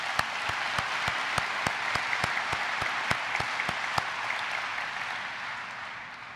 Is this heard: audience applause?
yes